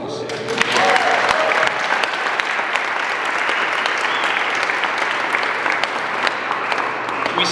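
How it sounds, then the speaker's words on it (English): Sustained audience applause at a Montana event promoting a Turning Point USA high school club program, a loud, dense crowd clapping continuously from just after the start to the end. "Let's give them applause."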